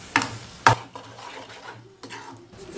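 Egg podimas being stirred in a pan over low heat, with a spatula scraping and tapping against the pan. Two sharp clinks stand out near the start, followed by softer scraping strokes over a low background hum.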